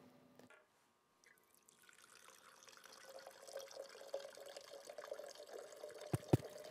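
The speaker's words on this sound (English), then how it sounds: "This is me pouring enough alcohol, 190 proof, grain alcohol" 190 proof grain alcohol being poured into a container, a quiet liquid stream that builds steadily in volume, ending with a couple of sharp knocks.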